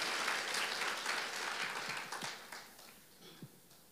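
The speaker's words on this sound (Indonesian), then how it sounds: "Oh, berikan tepuk tangan yang lebih meriah lagi buat dia." A church congregation applauds God during an Indonesian sermon, a dense burst of clapping from many hands that starts full and gradually thins and fades into a few scattered claps.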